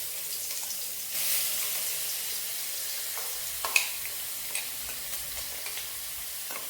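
Curry leaves and crushed spices sizzling and crackling in hot oil for a South Indian tomato and tamarind rasam, a steady close fry with a few sharper pops and stirring sounds, no voices.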